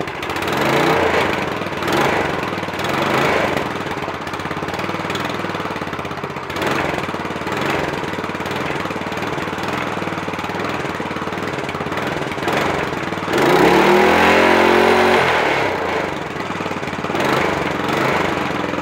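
A small engine, cold and reluctant to start, drones steadily and loud near the mic for most of the stretch, then surges into a rougher, rising roar near the end before settling back; no one talks.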